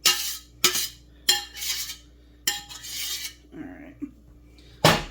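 Drained noodles are dumped and scraped into a cooking pot, five sharp, loud scraping rasps of utensil on metal separated by short pauses, with softer shuffling and a faint clink in between.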